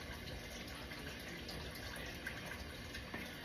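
Water streams steadily for jasmine rice, a continuous close gushing pour with no pauses and no talk over it.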